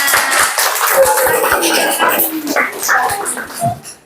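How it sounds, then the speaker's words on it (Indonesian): Classmates in an Islamic studies classroom clap for a student after a question; a short burst of hand clapping with distinct individual claps, close and fairly loud, mixed with chatter, tapering off near the end. "Oke, tepuk tangan buat temennya."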